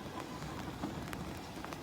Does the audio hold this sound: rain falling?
yes